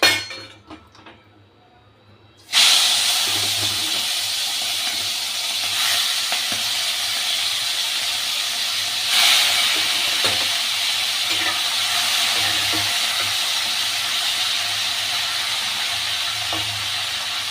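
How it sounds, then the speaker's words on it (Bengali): Fish dropped into hot mustard oil for shrimp with gourd leaves, a loud steady close sizzle bursting in after a brief quieter moment and continuing with faint clinks. "তেল গরম হয়ে গেছে, আমি মাছ ছেড়ে দিচ্ছি।"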